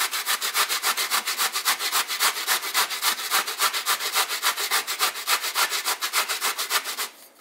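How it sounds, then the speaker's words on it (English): Washed zucchini rubbed down the large holes of a box grater, giving a steady run of fast, even rasping strokes, close and loud, that stop abruptly near the end. "I'm just gonna go ahead and grate this, and I'm just using the larger part on my grater"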